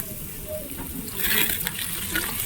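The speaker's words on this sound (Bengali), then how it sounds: "আর একটু জল দেবো, কচুটা সিদ্ধ হওয়ার মতো জল দিতে হবে।" Water poured into a pot of taro, potato, eggplant and prawn curry: a steady hiss and sizzle with bubbling splashes that swell midway, close and continuous, with no voices.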